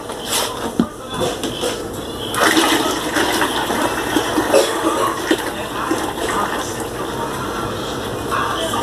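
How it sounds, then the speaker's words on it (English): Liquid ballistics gelatin is poured from a mixing batch into a container, a sustained splashing, gurgling rush that grows fuller partway through and continues steadily, with a faint cough or shuffle near the start. "Mixed up the last batch of the gelatin here. And we're going to pour it in."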